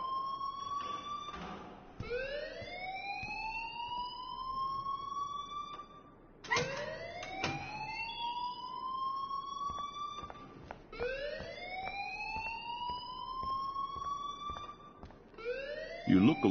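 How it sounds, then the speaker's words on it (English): An alarm wails in the video game Life Is Strange, a repeating rising siren sweep that restarts every few seconds and stays loud throughout, with a voice speaking briefly near the end. "please turn off that alarm since that's your job"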